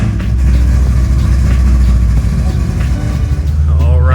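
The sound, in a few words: Corvette C6 Z06 engine starting and idling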